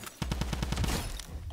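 Rapid gunfire in the video game Fortnite, a quick burst of about eight evenly spaced loud shots followed by a fading tail, with no talking.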